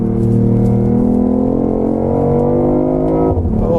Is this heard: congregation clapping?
no